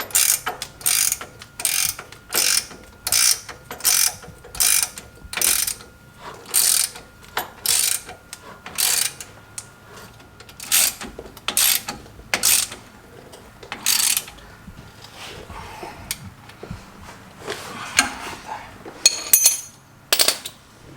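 A hand ratchet clicks in short repeated bursts as bolts on a steering stabilizer are tightened on a 2017 or later Ford F250/F350 heavy-duty truck, close and clear with brief pauses between strokes.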